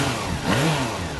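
A Yamaha FZ6 Fazer 600cc inline four-cylinder motorcycle engine, double overhead cam and fuel injected, gives a short smooth rev that swells and falls back, loud and close.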